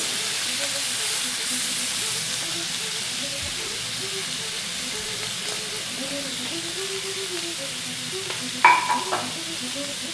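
Offal frying with bananas in a pan, a steady sizzle and hiss running throughout while it is stirred, with faint voiced murmur underneath and a sharp pop or clatter near the end.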